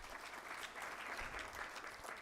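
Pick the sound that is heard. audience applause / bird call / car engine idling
audience applause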